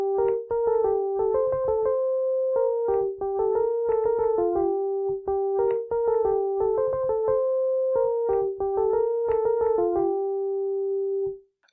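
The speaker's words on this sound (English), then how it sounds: "you'll hear the flute and oboe play this next theme." Flute and oboe playing a simple G-minor theme from Dvořák's New World Symphony: clean, separate phrases of short notes, each ending on a held tone, clear and close with no talking.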